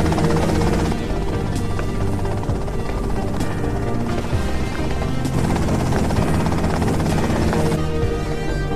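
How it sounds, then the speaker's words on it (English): A helicopter in GTA Vice City gives off a loud, continuous rotor thrum and engine drone that stays steady and close for the whole stretch. "Okay, that's them in the chopper."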